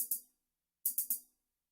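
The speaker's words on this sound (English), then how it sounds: "this next sound is just some secondary hi-hats to add a little bit more rhythm to the drums" Secondary hi-hats in an FL Studio trap beat give a pair of hits, a short pause, then a quick triplet of bright, slightly thick strikes, close and unaccompanied.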